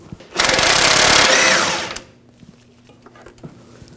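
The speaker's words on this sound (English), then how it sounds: "I'm going to use a 21mm wrench on the nut, 21mm socket. I'm going to loosen this up." A 21mm socket on a front lower control arm nut of a 2000-2006 BMW X5 being loosened, heard as one loud mechanical whirring burst of about a second and a half, then a quiet shop.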